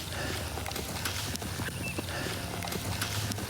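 A horse being worked under saddle by a trainer, its hooves clip-clopping in a steady rhythm on the ground, close and clear over continuous background noise.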